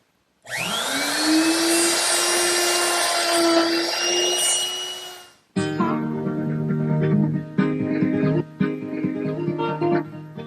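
A handheld router with a 1/4-inch Roman ogee bit cuts a heavy first pass in wood, a loud steady high whine that stops abruptly, followed by a lower, uneven rattling grind with brief dips.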